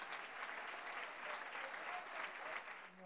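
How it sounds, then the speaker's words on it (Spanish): Applause for a club president at a gathering, a dense crowd clapping steadily at moderate distance, sustained and even for the whole stretch without clear speech over it. "Ahora le paso un aplauso,"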